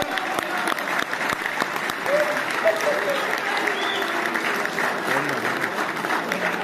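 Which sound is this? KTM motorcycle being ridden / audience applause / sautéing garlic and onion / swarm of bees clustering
audience applause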